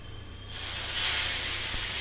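Nigella seeds dropped into hot oil for tempering burst into a sudden loud, bright sizzle that holds steady and close after a quiet start.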